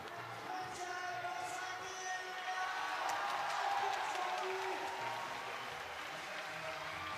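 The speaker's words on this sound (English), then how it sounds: "the crowd is going wild" Crowd at an IFSC World Cup bouldering semi-final in Munich, cheering and applauding in a continuous dense roar that holds steady throughout.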